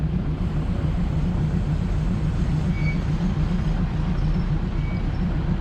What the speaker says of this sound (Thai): บรรยากาศการเดินทางด้วยรถไฟ ธรรมดา